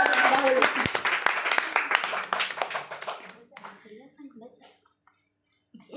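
A crowd at a campus comedy show claps for a guest star from Java, loud and brisk at first, then thinning into scattered claps and fading to near silence, with faint voices underneath.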